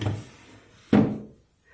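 A wooden drawer of an antique desk in a craft room slides open with a single short, close scrape and bump, followed by quiet.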